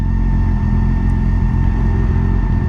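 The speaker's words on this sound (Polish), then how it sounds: "troszeczkę buczy wydechy ma oryginalne" Motorcycle with its original exhaust idling, a steady low droning rumble with a constant hum, close and even throughout.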